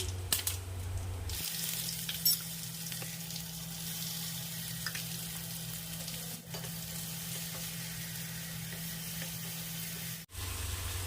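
Mustard seeds and cumin splutter and sizzle in hot oil, a steady crackling hiss with scattered pops, a low hum underneath and a couple of brief clatters.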